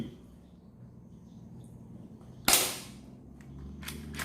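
A KWC 1911 Match air pistol fires one sharp, loud crack up close, rising out of a quiet room and fading quickly, followed by faint clicks and a brief later burst of noise.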